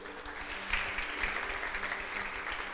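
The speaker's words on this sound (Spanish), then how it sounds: "Le damos un aplauso al Señor." A church congregation claps together after a prayer, a soft, even wash of many hands heard from some distance, steady for a few seconds without voices over it.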